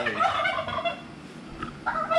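Heritage-breed Bourbon Red turkeys gobble outdoors, with a rattling burst at the start and another near the end, close and fairly loud, and no people talking.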